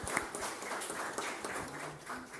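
Audience applause at a women's tribute ceremony honoring Beatriz Guimarães, a steady wash of many hands clapping at moderate volume, continuous throughout with no voices.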